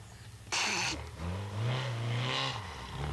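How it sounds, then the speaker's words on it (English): A rally car runs off a stage road, its engine surging loudly with a burst of gravelly scraping and a rising, revving drone close by. "Then he drives off the road"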